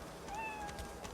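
A cat in the video game Divinity: Original Sin 2 lets out a short, quiet meow over a soft background ambience, alone without any talking.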